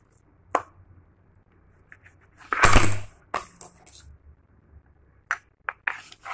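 Knife slicing raw chicken breast lengthwise into strips on a board, a few sharp isolated cuts and taps with quiet gaps between them, close and clear.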